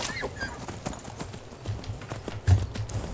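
Horse hooves clip-clop in a steady, moderately paced rhythm in the Skyrim video game, close and fairly quiet, with a few louder low thuds and no speech over them.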